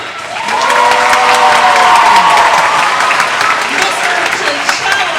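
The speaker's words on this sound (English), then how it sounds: "I'd like you also to give a round of applause to Mr. Herrmann" An elementary school crowd at a Flag Day event applauds the second grade teachers with loud, sustained clapping and some cheering, while a voice calls out over the noise before it eases slightly toward the end.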